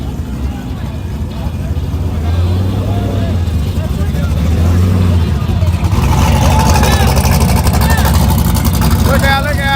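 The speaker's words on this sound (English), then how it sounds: "coming up next we have Nissan 240, and this thing has a major power adder, single turbo with a parachute" A single-turbo Nissan 240 drag car with a parachute roars at a drag strip, a loud, heavy engine drone that swells into a harsher, brighter rush partway through, with a commentator talking over it.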